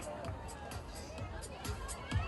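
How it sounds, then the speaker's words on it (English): An audience at a fashion and lifestyle launch event gives a continuous round of applause and crowd noise, steady and fairly loud for the whole stretch. "A big round of applause for Muskan, ladies and gentlemen"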